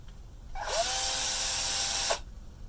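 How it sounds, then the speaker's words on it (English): A 12-volt power drill whirs alone for about a second and a half, spinning up with a rising pitch, holding a steady high whine, then cutting off. "12-volt drill."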